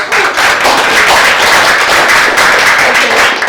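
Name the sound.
audience applause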